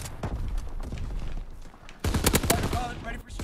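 Sniper rifle gunfire in the Call of Duty WW2 video game, a dense run of sharp shots and impacts cutting through game noise while a player talks over it.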